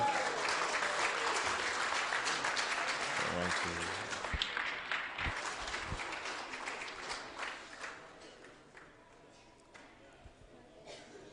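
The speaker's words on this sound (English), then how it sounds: "A big round of applause for all the table tennis participants." Audience at a sports awards ceremony applauds table tennis participants, a dense sustained round of clapping that gradually thins and fades into scattered claps toward the end.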